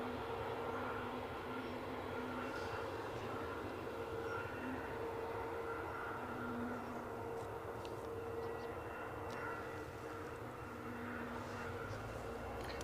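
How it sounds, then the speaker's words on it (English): A British Airways Airbus A320neo arriving at Edinburgh Airport from Heathrow, heard as a steady, continuous engine roar with a faint whine that holds evenly throughout, at a moderate distance. "our inbound aircraft is a British Airways A320neo, inbound from Heathrow"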